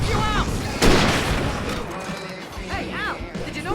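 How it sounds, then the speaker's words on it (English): Fireworks bursting in the game Alan Wake: a sharp loud blast near the start, then rumbling crackle with game voices and whistling tones over the mix. "I can set off more of the fireworks from here and help you out!"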